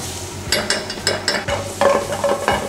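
Garlic sizzling in hot oil in a pan while being stirred for a prawn sauté, a steady close fry with repeated scraping stir strokes.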